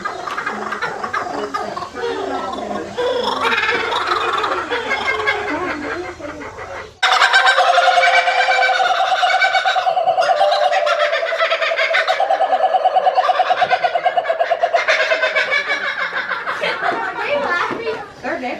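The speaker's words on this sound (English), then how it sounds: "And here we have some lovebirds." Lovebirds at the Parrot Mountain bird park in Pigeon Forge, Tennessee, break into loud, continuous, shrill chattering calls after a quieter stretch of mixed crowd noise, with children and other visitors talking nearby.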